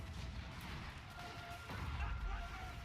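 Artillery fires in Total War: Warhammer during an Empire campaign battle, a steady roar of distant booming blasts and crashes under dense battle noise, with a voice talking over it.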